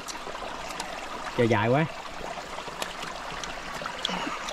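A forest stream flows steadily as a soft, continuous wash in the background, with a short burst of speech partway through.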